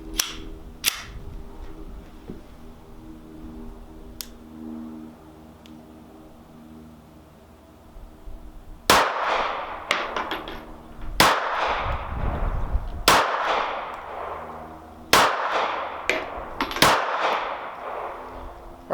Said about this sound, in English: Let's give this thing a few shots from 7 yards away and see how it does.